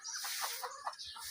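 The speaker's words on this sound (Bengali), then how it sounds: "এই দেখতে পাচ্ছেন, অনেক বড় বড় মোরগ আমাদের ফার্মে রয়েছে" Large adult Bahama breed roosters on a poultry farm give a short run of soft, close clucks, faint and alone with no talking.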